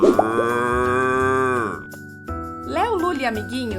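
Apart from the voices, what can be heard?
cow mooing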